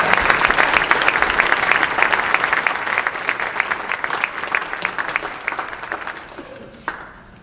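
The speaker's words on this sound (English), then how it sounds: "How about a round of applause?" Audience applause at a high school senior awards ceremony: a steady wash of many hands clapping that thins and fades toward the end, with a last few scattered claps.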